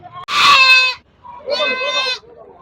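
Goats bleat close by at a Saturday goat market in Ettayapuram, Thoothukudi district: two loud, drawn-out calls separated by a short pause, with faint background murmur between them.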